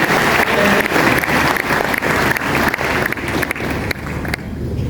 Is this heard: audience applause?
yes